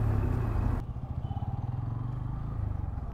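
A motorcycle passes on a road near Santragachi in Howrah. Its engine gives a close, low, rhythmic putter with regular pulsing that follows a brief burst of broader road noise at the start.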